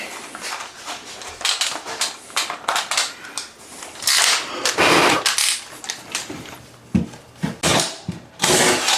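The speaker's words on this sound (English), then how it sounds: "And then I'm going to drill the two small ones first. And we'll drill our big boy." Bursts of power drilling into a bathroom vanity, loud and close, starting and stopping repeatedly with brief clattering gaps between runs.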